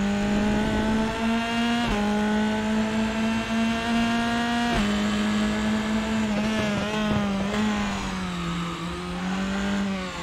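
Race car engine in RaceRoom Racing Experience at Aragon, a loud continuous drone with pitch shifts as gears change and the car slides out at the rear, with no talk over it.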